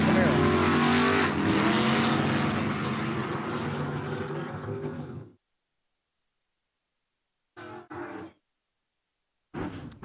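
Drag racing cars, a Nova and a red Corvette, roar loudly in the burnout box at a dragway for about five seconds, then cut to silence broken by two short bursts of engine noise.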